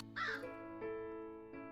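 Caws from a cartoonish crow character named Corvi in a video game trailer: a loud harsh caw followed by two shorter calls, each ringing over a sustained musical backing.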